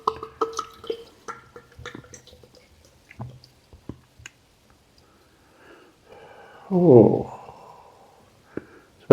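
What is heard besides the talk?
pouring Jubiliejinis anniversary lager beer into a glass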